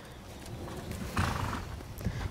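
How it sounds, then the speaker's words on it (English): Horse moving under a rider at a jumping clinic on a farm, with steady hoof clops and a brief neigh mid-clip over outdoor background noise. "He looks like a little event horse."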